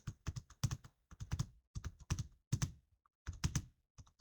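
Fingers type on a computer keyboard while entering text in an Excel spreadsheet: quick bursts of crisp, close key clicks separated by short pauses, quiet and with no voices.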